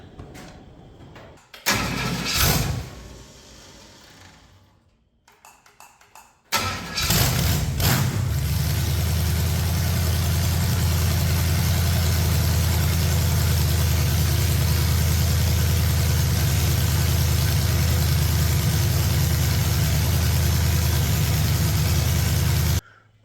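A 460 engine from a cheap Marketplace purchase cranks with a brief catch and falters. Then it fires up and settles into a loud, steady, rumbling idle that holds until the end, close by with no talk.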